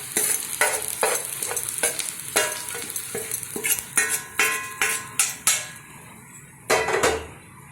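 Fried onion, garlic and green chilli tempering is stirred into green gram dhal in a pot, giving repeated clanking scrapes of a metal spoon against the vessel, punctuated by sharp knocks and a faint sizzle, with no talking.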